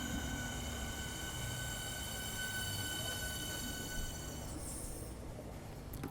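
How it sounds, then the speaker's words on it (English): A train passing through Brixton station: a steady, loud rumble of wheels on rail with a high, ringing metallic whine running throughout and a brief brighter squeal near the end. "Just in time for the train."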